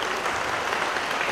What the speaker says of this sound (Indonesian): Tepuk tangan dulu buat Yuni ya.